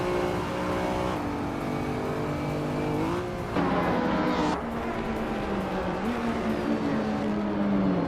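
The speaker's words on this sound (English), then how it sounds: "the race is kicking off at Feldbergring" A 1997 McLaren F1 GT launches from pole at the Feldbergring in a racing video game, its engine loud and continuous, revving and shifting up through the gears as other cars roar alongside.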